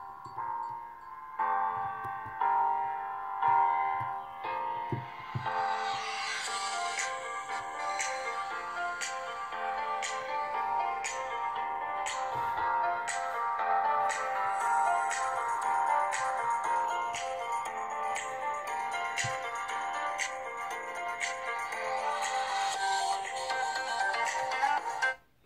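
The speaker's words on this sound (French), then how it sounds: "On va maintenant mettre une musique." Royalty-free music playing through the built-in speaker of a Doogee N20 phone, a continuous melodic track with a thin tone and plucked accents, steady and moderately loud throughout before ending abruptly.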